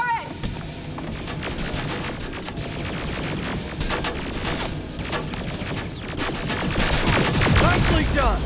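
Turret gunfire in the shooter game Terminator Resistance: dense, sustained automatic bursts mixed with blasts and crashes, loud and close throughout, with voices calling out over the shooting.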